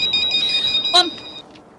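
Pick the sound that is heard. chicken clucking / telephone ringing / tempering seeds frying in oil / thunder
telephone ringing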